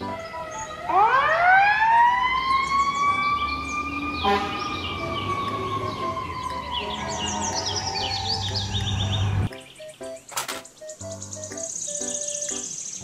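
A loud fire truck siren winds up into a long sustained wail, holding for several seconds before cutting off abruptly into scattered softer sounds.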